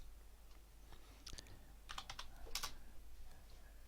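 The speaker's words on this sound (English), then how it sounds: "Not easy to talk and type your password" A password is typed on a computer keyboard, a few quiet clusters of quick key taps close by over faint room hiss.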